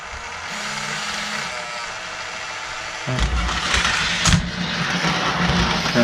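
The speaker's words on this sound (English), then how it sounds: "As it goes by, gate goes down, and then after a time delay, gate goes up." A model train on a layout rolls slowly past a level crossing whose gate lowers and rises, a low continuous motor whir that turns louder and rougher partway through, with a brief clatter near the crossing.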